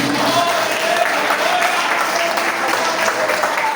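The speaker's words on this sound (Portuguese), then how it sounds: "Aplauda Ele, glorifique" A church congregation applauding during a worship service, a dense, steady wash of clapping at moderate level, with faint voices mixed in underneath.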